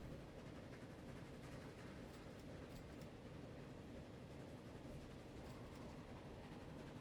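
A train running in the video game Transport Fever, a faint, steady rumble of wheels and rolling stock with light clicking on top, continuous and distant, with no talk.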